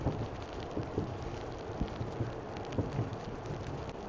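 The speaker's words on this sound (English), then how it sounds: "The rain has not stopped, but it's less." Steady rain falls around a traveler heading from Missoula toward Drummond, Montana, a constant close hiss of drops with faint low rumbles beneath, no voices.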